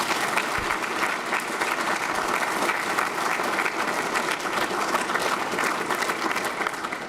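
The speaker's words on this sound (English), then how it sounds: "So let's give them a round of applause." Steady, dense audience applause at a university ROTC commissioning ceremony, continuous and fairly loud throughout with no pauses.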